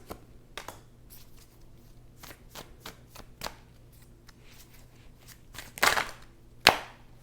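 Tarot cards are shuffled and drawn by hand in a quiet room: a string of soft, papery riffles and flicks, then two louder, sharper snapping bursts near the end.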